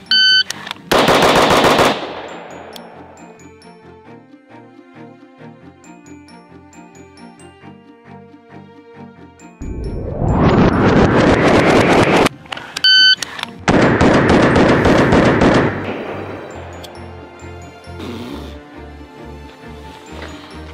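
Three rapid, loud bursts of gunfire from a rifle fitted with a CMC 3.5 lb flat trigger, each volley a fast string of sharp shots separated by quieter pauses.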